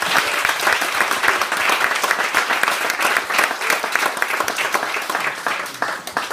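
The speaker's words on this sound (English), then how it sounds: "Let's give him a round of applause." A crowd claps steadily and densely at a youth under-nines football club awards presentation, a sustained round of applause filling the room from start to finish.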